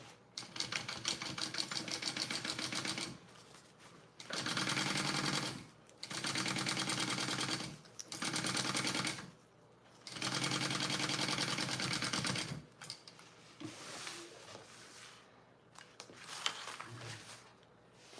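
A sewing machine basts a bag strap in several fast, rattling bursts of stitching separated by pauses, close by, with quieter handling noises near the end.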